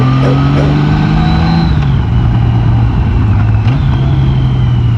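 A car engine is revved in first gear with the clutch slipping, and loud, steady mid-range engine drone holds close and constant, with pitch sliding down and back up as revs shift.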